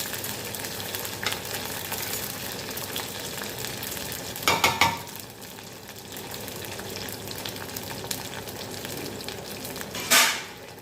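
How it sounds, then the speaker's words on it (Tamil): Garlic and small sambar onions fry in a pan for a horsegram-fenugreek kuzhambu, giving a steady close sizzle throughout, with two brief louder bursts of stirring or spatula scrapes near the start and end. "பூண்டு நல்லா வதங்கட்டும்"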